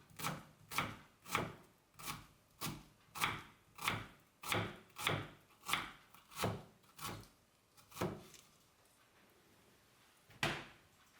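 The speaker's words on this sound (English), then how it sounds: "chopping an onion properly is almost a science" A knife chops through an onion on a board in quick, even strokes, about a dozen crisp thuds, then a pause and one last cut, close and fairly quiet.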